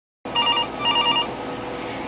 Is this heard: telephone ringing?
yes